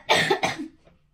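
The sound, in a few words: cough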